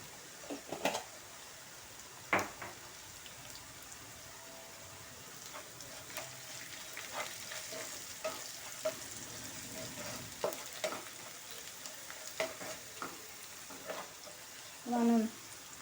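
Finely chopped tomatoes fry in a pan for ridge gourd curry with a soft, steady sizzle, broken by scattered clicks and scrapes of stirring.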